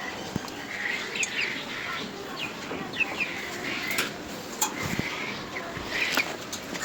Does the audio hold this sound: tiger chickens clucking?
yes